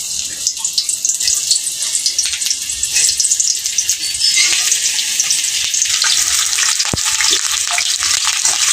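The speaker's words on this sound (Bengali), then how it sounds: "এই লাউগুলোকে এখন আমি ভেজে নেব" Large chunks of bottle gourd fry in hot mustard oil, crackling with a loud, close, continuous sizzle and intermittent stirring scrapes. The frying grows denser partway through.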